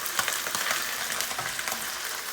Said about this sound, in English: we're gonna start by putting our chicken into the wok